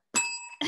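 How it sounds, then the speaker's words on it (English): A single bell rings out clearly with a bright sustained tone that fades slowly, followed by a brief knock or thump at the end, with no talking over it. "Ring the bell for that one, I think."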